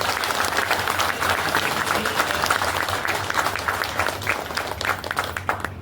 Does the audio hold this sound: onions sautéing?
no